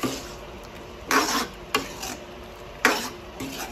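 Chicken afritada with fresh tomato sauce gets a few quick stirs in the pot, two louder scraping bursts of the spoon over a soft, steady simmer.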